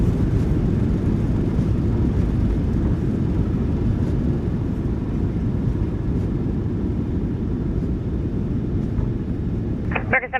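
A Southwest Boeing 737-800 in Microsoft Flight Simulator 2024 lands with thrust reversers deployed and braking engaged, producing a loud, steady low-pitched roar and rumble that holds throughout and ends with a brief rattle.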